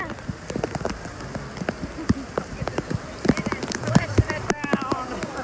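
Water pouring down on the Rain water ride at Volcano Bay theme park, a steady patter of falling drops with sharper splashes scattered throughout, close by with a voice faintly in the background.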